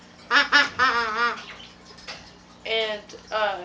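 A deer call blown to mimic a doe's estrus bleat, a series of short nasal bleating calls in two bursts, close and moderately loud with no talking.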